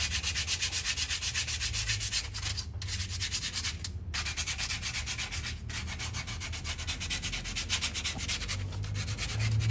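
A rusty brake caliper from a 2004 Toyota Matrix is scrubbed with coarse 60-grit sandpaper in fast, continuous rasping strokes, close and loud, with a few short pauses between passes.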